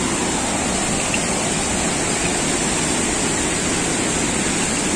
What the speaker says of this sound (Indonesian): Jadi berarti air terjunnya sudah kelihatan di bawah ya.